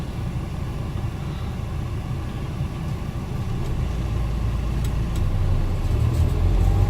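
A van drives through the centre of Castleton, heard from inside the cab as a continuous low engine rumble and road noise that swells slightly as it picks up speed.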